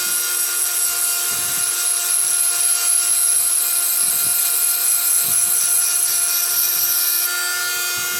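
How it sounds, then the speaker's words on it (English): Dremel rotary tool grinding the edge of a piece of glass, a steady high-pitched whine held continuously at close range with faint scraping contact underneath. "Or you can use what you've got available, a dremel."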